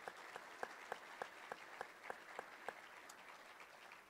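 Applause from an audience for city employees at a State of the City event, heard as sparse, distinct claps over a steady patter, fairly faint and distant.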